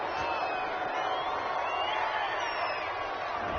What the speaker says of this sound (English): Oh, this crowd does not like that call.